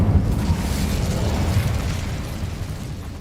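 A fire spell cast in the Hogwarts Legacy video game lets out a loud, dense whooshing burst of flame that roars steadily and slowly fades, close and alone.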